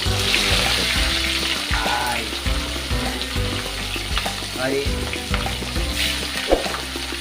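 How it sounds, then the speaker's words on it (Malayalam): Masala-coated quail pieces frying in hot oil, a loud, steady close-up sizzle with crackling pops throughout, plus a few clinks of a utensil against the pan. "ഇനി നമുക്കിതാ നമ്മൾ റെഡിയാക്കി വെച്ച മസാല തേച്ച് വെച്ച കാട ഓരോന്നായിട്ട് ഇട്ട് കൊടുക്കാം. എണ്ണ നന്നായി ചൂടായിട്ടുണ്ട്."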